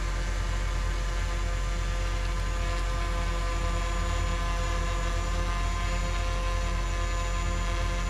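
A DJI Air 3 drone hovers close by before landing, its steady buzzing propeller whine holding constant and loud throughout.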